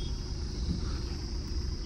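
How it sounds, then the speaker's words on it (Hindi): Car tyres roll over a newly built road on a drive near Ranikhet, a faint, steady roar and rumble heard from inside the vehicle with no talking. "नई नई रोड बनी है तो टायर पे ऐसी आवाज़ें आ रही है ना"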